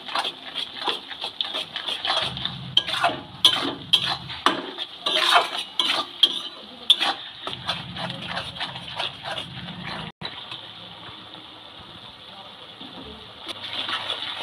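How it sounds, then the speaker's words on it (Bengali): Chilli powder and ground spices are mixed into soybeans in a pan, giving repeated clattering scrapes and knocks of a utensil against metal, close and fairly loud, in bursts with brief pauses. "এবারে গুঁড়ো লঙ্কাগুলো আর গুঁড়ো সব মশলাগুলো সব একবারে ভালো করে মিক্স করে নিচ্ছি।"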